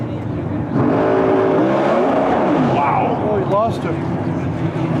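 A Pro Stock drag racing car launches during qualifying at the NHRA Finals, its loud engine revving hard with sweeping pitch changes and a brief tire squeal. A voice talks over the roar.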